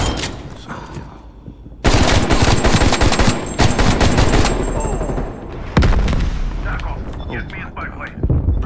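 Heavy automatic gunfire in Call of Duty Cold War, with loud sustained bursts and rattling volleys that start after a quieter opening, pause briefly, then resume. A voice talks over the action.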